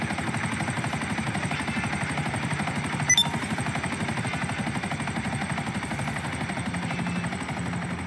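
Helicopter in Grand Theft Auto 5 gameplay, a steady rapid rotor chop with a continuous engine whine throughout, close and even in level, with a brief sharp click partway through and no talk.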